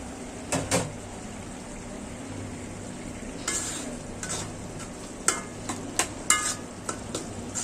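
A pan of frying food with coriander leaves sizzles steadily underneath repeated clinks and scrapes of a spatula stirring against the pan.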